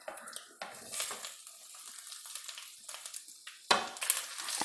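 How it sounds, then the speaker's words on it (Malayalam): Green chillies, tomato and onion sautéing in oil for tomato curry, a soft hiss under intermittent scraping and stirring strokes, with a sharper clatter near the end, close but fairly quiet. "ആ എണ്ണയിലൊന്ന് ചെറുതായിട്ട് വഴറ്റിയെടുക്കുക."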